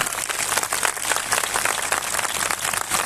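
An audience at a Christian gathering claps steadily in sustained applause, a dense wash of many hands with no voices on top.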